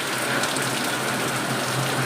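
Heavy rain pours down in a steady, dense hiss that stays loud and unbroken throughout, with no voices heard.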